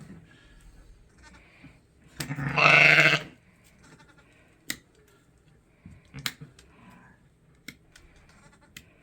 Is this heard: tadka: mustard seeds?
no